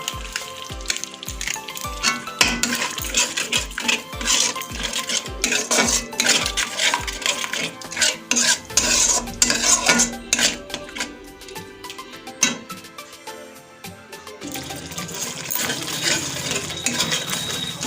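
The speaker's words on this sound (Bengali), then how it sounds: "মশলা কষানো হচ্ছে আমার" Spices being sautéed and stirred in a pan for cauliflower roast, with metallic clinks and scrapes of the spoon over busy background music that thins out partway through.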